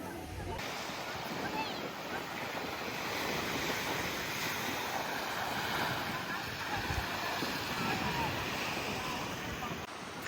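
Steady wash of surf breaking along the beach at Hoi An, continuous and fairly loud with wind noise on the microphone, heard alone.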